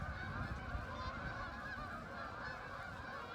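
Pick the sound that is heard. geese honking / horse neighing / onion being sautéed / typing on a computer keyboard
geese honking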